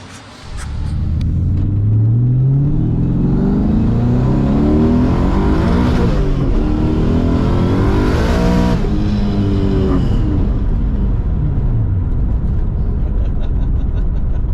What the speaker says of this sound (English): And the only thing left to do is do a test drive.